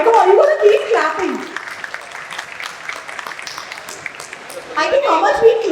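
An audience at the IIID Design Confluence & Showcase in Thane applauds in a soft, sustained patter of many hands, with a voice talking over it at the start and end.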